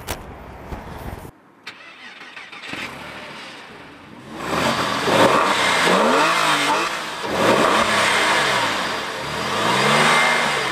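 A Porsche 911 with a rear-mounted 3.6-litre six-cylinder engine starts with a short crank and catch, then revs up in several rising and falling sweeps, loud and close, with no speech.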